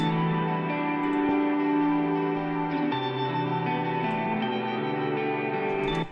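Dense, full-range distorted guitars on a guitar bus with no EQ chug and sustain with a boomy low end and bright top, reverberant and continuous with no voices.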